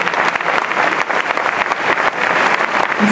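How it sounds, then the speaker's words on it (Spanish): Loud, dense applause fills a bodybuilding competition award ceremony in Tenerife, a steady wash of many hands clapping close by for the full length without a break. "Fuerte aplauso para él."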